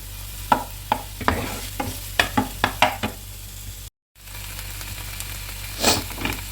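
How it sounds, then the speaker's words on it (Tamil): A spoon scrapes and knocks against a pan as tomatoes are sautéed, a string of sharp stirring taps over a low steady hum, with a brief gap before more stirring. "இப்போ தக்காளி வதங்கிடுச்சு."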